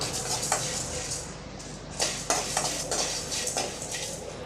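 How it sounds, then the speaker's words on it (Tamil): Sesame seeds and spices roasting together in a pan for Tamil vathakulambu, a busy, close crackle and sizzle broken by repeated clinks and scrapes of a utensil stirring against the pan. "இப்போ எல்லாத்தையும் சேர்த்து நல்லா வறுத்து விட்டுறலாம்"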